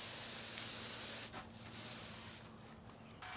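Aerosol spray of WD or cooking oil onto a plaster mold, short hissing bursts close by, one long spray, a brief break, then more hissing that stops and resumes faintly.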